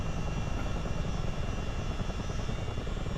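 A CH-47D Chinook tandem-rotor helicopter in a flight simulator game near Pelee Island Airport, its engines and rotors making a steady, loud roar throughout with no talking.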